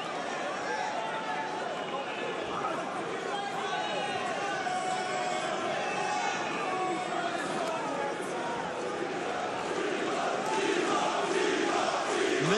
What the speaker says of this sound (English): Listen to this Parisian crowd getting behind Thibaut Gucci.